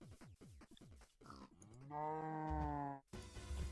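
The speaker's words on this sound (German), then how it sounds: "Kuh!" A cow moos in Minecraft, one long drawn-out bovine call with a low harmonic tone, heard alone and fairly close after a few short plucked game sounds.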